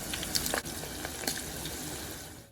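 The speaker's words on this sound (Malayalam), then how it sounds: "ഇനി നമുക്ക് ബാക്കിയുള്ള കോളിഫ്ലവർ കൂടെ ചേർത്ത് ഫ്രൈ ചെയ്തെടുക്കാം" Cauliflower florets for gobi manchurian deep-fry in oil on medium flame, a steady close bubbling sizzle with a few sharper crackles before it cuts off.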